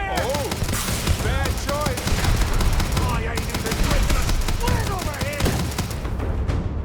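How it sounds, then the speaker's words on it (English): Dense video-game combat in Starfield, with grenade launcher fire mixed into continuous loud gunfire and bursts that run throughout, while voices shout and talk over the fighting. "Mathis has got a fucking grenade launcher."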